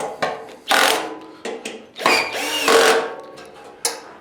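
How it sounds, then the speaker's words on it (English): Cordless power drill driving bolts tight on a metal sewing machine stand, several short whirring bursts separated by pauses, close and fairly loud with faint clicks of the chuck and hardware between runs. "you can go around with your drill and give all of these a bit of a tighten"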